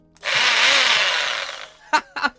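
An old electric drill bores into a basement workshop wall in a loud whirring burst of about a second and a half, then winds down, followed by two short clattering knocks.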